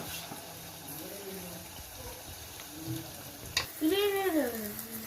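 Carrot and beetroot simmer in coconut oil with faint, soft bubbling and sizzling, followed by a brief clatter and a louder gurgling burst near the end.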